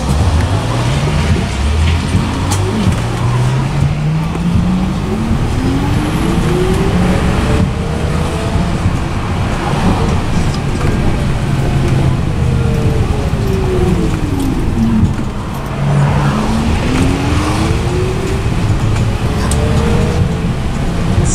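A Caetano e.City Gold electric single-decker London bus pulls away and drives on, its motor whine rising and falling in repeated pitch sweeps over steady road rumble, loud and close from inside the cabin.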